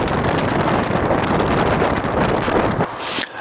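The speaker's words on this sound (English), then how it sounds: "the wind was buffeting" Strong wind roars and buffets the microphone in continuous heavy gusts, loud and close, easing briefly near the end.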